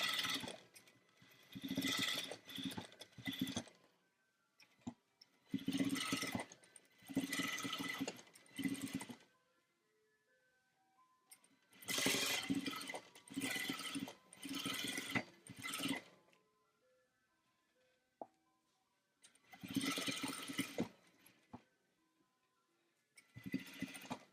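A sewing machine stitches binding onto a shawl vest in short repeated bursts of whirring, separated by quiet pauses, close but soft.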